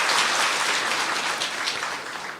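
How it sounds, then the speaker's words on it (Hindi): An audience claps loudly in welcome, a dense burst of steady applause from many hands that fades slightly over two seconds. "सभी दीदी का जोर से ताली बजा के स्वागत करते हैं"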